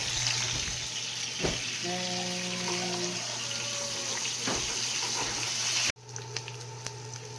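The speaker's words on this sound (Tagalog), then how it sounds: "Okay, naluto na ang first batch sa atong giprito nga katawa ni." Pork chops fry in a pan with a steady loud sizzle, joined by a brief tonal ring and a few clanks before the sizzle abruptly drops away.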